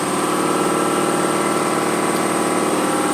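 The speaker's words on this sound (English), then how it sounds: "Just waiting for the air compressor to finish charging up." A garage air compressor charges up ahead of plasma cutting, with a steady, loud mechanical hum and pump drone running unbroken throughout.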